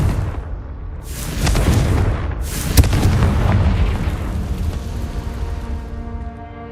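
A Confringo blasting spell goes off in Hogwarts Legacy with a loud, close boom, then a second blast that rolls into a rumbling decay lasting several seconds; no talk.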